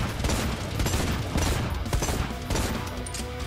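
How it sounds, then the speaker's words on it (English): Rapid pistol gunshots in the video game Necromunda: Hired Gun, a dense run of sharp, loud cracks fired in quick succession with no pauses, over busy combat ambience. "How does this pistol go?"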